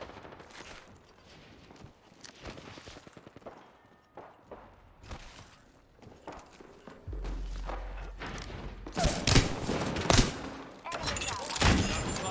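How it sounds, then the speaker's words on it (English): Bursts of gunfire in Apex Legends crackle in rapid volleys, loud and close, mixed with footsteps and thuds, growing heavier toward the end with a low rumble underneath. "Listen up, I'm getting shot at."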